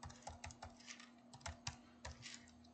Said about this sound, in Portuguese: eu vou digitar a senha